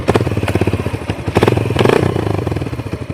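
A motorcycle engine runs close by during a riding practice session, its pulsing, throbbing exhaust revving and easing in a steady rhythm with some rattling clatter, loud and without talk.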